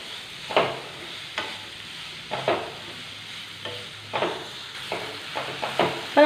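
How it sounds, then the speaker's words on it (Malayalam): Sliced onions sauté in a pan over a medium flame while cooking egg kothu chapathi, a steady close sizzle broken by about a dozen sharp spatula scrapes and stirs at an uneven rhythm, with no voices. "ഇനി ഒരു മീഡിയം ഫ്ലെയിമിൽ വെച്ചിട്ട് ഈ സവാള നന്നായിട്ട് നമുക്ക് വാട്ടിയെടുക്കണം"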